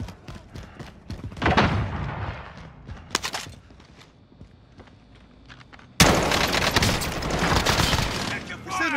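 Gunfire in the Call of Duty video game, Rebirth Island: scattered shots and thuds early, then a sudden loud, sustained burst of rapid fire from about six seconds to the end.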